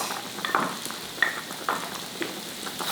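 Six large garlic cloves hit a hot skillet for Tuscan chicken, producing a bright sizzle and scattered stirring clicks, with a few sharp metallic taps standing out over the steady frying hiss.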